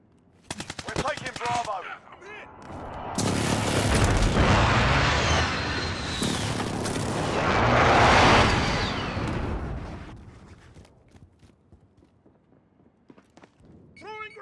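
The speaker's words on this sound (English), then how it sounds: "Enemy precision airstrike. Take cover." Precision airstrike blasts and gunfire in Call of Duty: Modern Warfare: sharp rapid shots open the clip, then a long, loud roar of layered explosions swells and fades, with voices heard amid the fighting.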